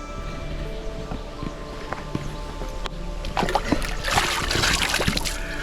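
Water of the Vovcha river in a forested setting splashes and trickles close by, with scattered clicks and knocks and a busier rush of splashing in the second half.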